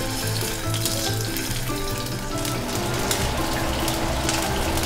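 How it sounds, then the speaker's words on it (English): Sea scallops frying and browning in a hot pan, a steady dense sizzle with crackling and occasional soft clinks of utensil against pan, continuous and close. "Now we're frying it, we're browning it, and then we're gonna turn it over on the other side."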